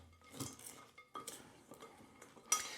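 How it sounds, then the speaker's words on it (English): Chopped dark chocolate is folded by hand into thick cookie dough, with soft scraping, stirring and occasional light clinks of a utensil against the bowl, close and fairly quiet. "And we're just going to mix this up by hand. We're going to fold it in to the batter."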